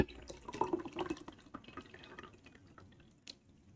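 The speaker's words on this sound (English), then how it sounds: "Pour some water" Water poured into a vessel at a desk, a faint close trickle and splash that is busiest early and then thins into scattered drips, with no voices.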